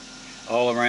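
A BMW car engine cranks and catches partway through, then settles into a loud, steady idle, with a low background hum before the start.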